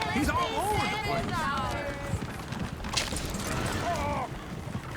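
Horses pulling a coach in Red Dead Redemption 2, with steady hoofbeats and repeated whinnies and neighs, some close and loud, over continuous rumbling movement and voices.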